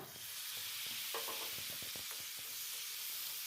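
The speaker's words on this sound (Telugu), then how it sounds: "ఇలా కలుపుకుంటూ ఫ్రై చేసుకోండి" A spoon stirs masala with turmeric frying in a pan for chicken fry piece biryani: a soft, constant sizzle with a quick run of scraping strokes, fairly faint and close, with no voices.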